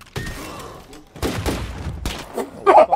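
Gunfire from the video game State of Decay 2 comes in loud, dense bursts with heavy thuds and crackling, broken by short gaps, and is close and dominant throughout.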